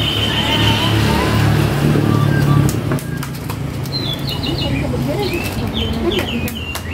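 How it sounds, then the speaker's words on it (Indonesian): Birds chirp and call repeatedly in short bursts over a busy background of traffic and other noise, moderately close. "Bunyi itu burungnya tuh sana tuh."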